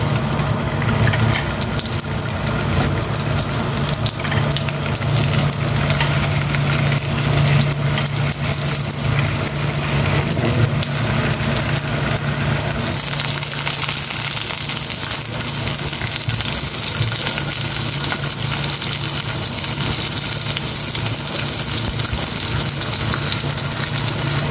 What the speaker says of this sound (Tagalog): Unahin kong iprito itong hotdog.